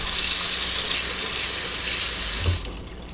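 A paint brush rinsed under a running tap, the water gushing steadily and loudly into the sink for a few seconds before abruptly cutting off.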